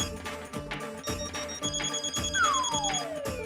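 A mobile phone left behind rings with a repeating electronic tone in short regular bursts, fairly close and clear, with a falling synthetic sweep partway through.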